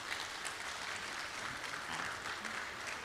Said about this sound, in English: give a big round of applause for this session